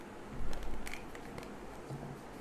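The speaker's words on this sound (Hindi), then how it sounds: "This is my last shuffle." Tarot cards being shuffled by hand, giving a few soft, quick papery riffles and slaps close by with no talking.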